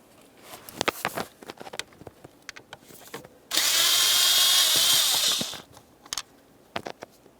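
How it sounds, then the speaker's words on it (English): A power driver backs out T20 Torx screws from the HVAC blower motor assembly of a 2006-2011 Honda Civic, one sustained whirring burst of about two seconds between scattered handling clicks and taps, close up, no speech. "Now to remove the blower motor, you'll find that you have 3 T20 Torx screws."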